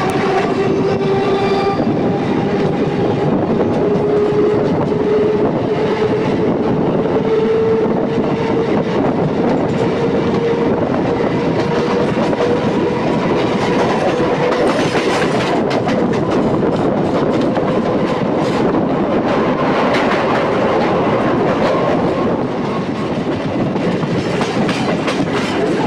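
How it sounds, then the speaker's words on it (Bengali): An EMU local train on the Howrah–Tarakeswar line rumbles loudly as it pulls into Uttarpara station, with a continuous clatter of wheels on rails and a long, steady horn tone through the first half. "আমাদের ট্রেন এখন প্রবেশ করছে উত্তরপাড়া স্টেশনে"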